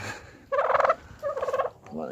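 Two bursts of rapid turkey gobbling, close and clear, separated by a short pause.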